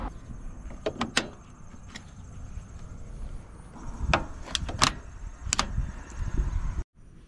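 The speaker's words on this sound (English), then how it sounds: "We're gonna trigger our door locks." Car door locks actuate as they are triggered, giving several sharp mechanical clicks and thunks in short groups, heard alone in a quiet space against a faint steady whine.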